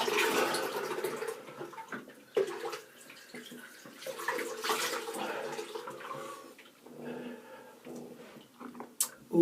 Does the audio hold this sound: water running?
yes